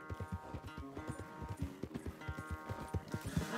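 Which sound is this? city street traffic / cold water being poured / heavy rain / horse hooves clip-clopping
horse hooves clip-clopping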